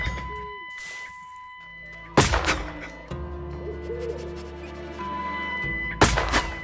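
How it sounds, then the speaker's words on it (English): Gunshots from a scavenger in the video game Endling: two loud, sharp blasts several seconds apart, each with a short burst of noise, over a steady low game ambience with faint hooting tones. "the scavenger just shot me without even aiming at me"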